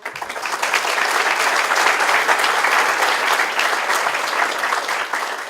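Loud, steady applause from the audience at a press conference for a candidate's investiture, many hands clapping densely and evenly throughout.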